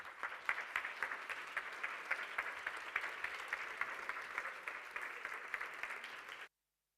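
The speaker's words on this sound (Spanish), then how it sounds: "Así que recibimos a ambos que toman ya posición en nuestra mesa de expertos con un fuerte aplauso" An audience at a public meeting with researchers applauds to welcome experts taking their seats, a steady, fairly distant wash of clapping that runs evenly, then cuts off abruptly.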